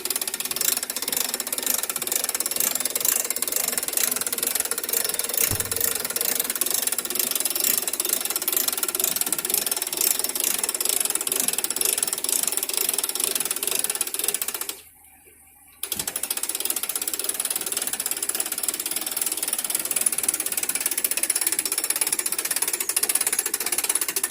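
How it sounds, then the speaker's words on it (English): A hand winch is cranked to pull a 2020 Robalo R180 boat onto its trailer, giving a steady, close ratcheting clatter that runs continuously, pausing briefly near fifteen seconds before resuming, with no talking. "Once we've got the winch strap connected, we can just crank the winch up, pull it right up to the bow stop."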